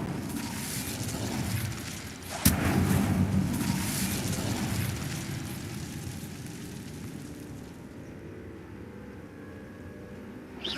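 In Hogwarts Legacy, casting the Incendio fire spell sets off a sharp burst that quickly swells into a roaring, whooshing rush of flame, then fades gradually into a quiet hiss.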